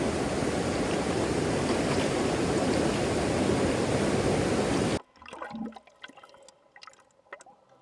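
Glacier river water rushes in a steady, dense roar close by in Mount Rainier National Park, then drops abruptly to faint splashing and sparse trickles, as when heard from underwater while snorkeling in snowmelt.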